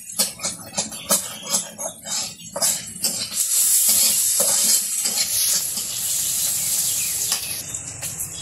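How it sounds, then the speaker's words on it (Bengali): Onion and green chili fry in oil in a wok in a Bangladeshi village kitchen, first a few stirring scrapes and clinks, then a loud steady sizzle that hisses on to the end. "মাছ ভাজা শেষ করে কড়াই আবার একটু তেল দিয়ে পেঁয়াজ কাঁচামরিচ দিয়ে দিচ্ছে।"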